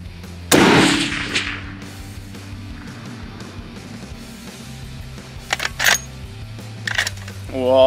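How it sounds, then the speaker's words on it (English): One sharp, loud rifle gunshot rings out across an open field in western New York, aimed at a woodchuck about 200 yards away, followed by a decaying echo and a few faint clicks. "just shot at a woodchuck out here at right around 200 yards"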